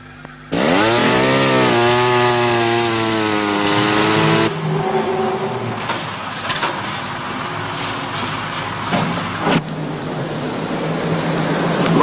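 A chainsaw cuts jarrah timber in a forest, its engine revving up loud and steady, then holding a rough, continuous buzz as it bites into the wood, close by and with no talk.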